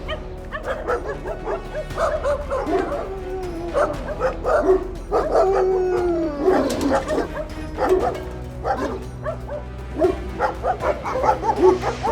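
Small Chihuahua yapping repeatedly, close and loud, with high excited barks and whimpering yips in quick uneven bursts.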